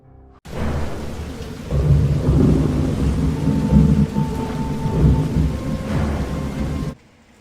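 Heavy rain and rolling thunder from the video game Heavy Rain: a dense, steady downpour with deep rumbling thunder building and sustaining for several seconds, then cutting off abruptly.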